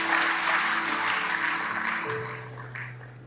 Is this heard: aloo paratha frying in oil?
no